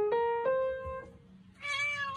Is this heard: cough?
no